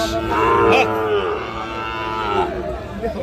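A young Sahiwal bull calf lets out a long, loud moo close by at a cattle market, its low drawn-out call filling the whole moment.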